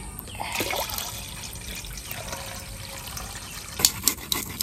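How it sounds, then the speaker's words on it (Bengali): Lentils (dal) are rinsed in water in a home kitchen, a steady trickling and sloshing of liquid running throughout, with a few sharper splashes and clinks near the end. "এবার ডালটা আমি ধুয়ে নিচ্ছি।"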